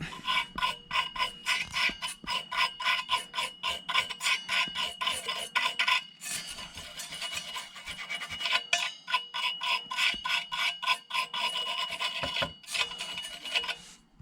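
Boiler electrodes are scrubbed clean by hand, producing rapid rhythmic rasping strokes in quick bursts, close and fairly loud, with a couple of brief pauses and no talk.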